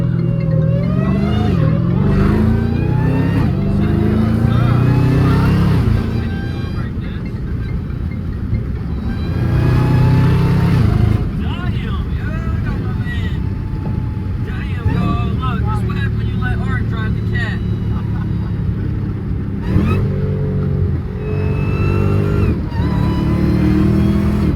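A 1000 hp Hellcat Chrysler 300 drives along with its engine droning and a rising, falling supercharger whine through several surges, heard from inside the car, loud and close, with voices talking over it at times.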